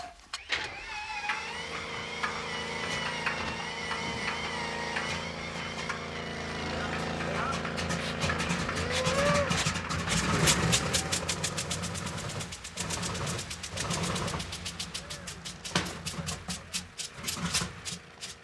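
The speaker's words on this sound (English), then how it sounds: "Now it's time to start an engine." A WWII B-29 bomber engine is cranked in a start attempt but does not catch, giving rough rhythmic chugging and clattering pulses that build mid-clip under people talking.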